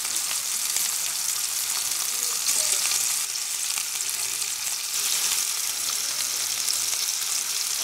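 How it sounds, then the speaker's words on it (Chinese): Meat frying in a little oil in a pan, a continuous bright sizzle and crackle, steady and close, with no talking. "锅里倒一点油，再把肉放下去。"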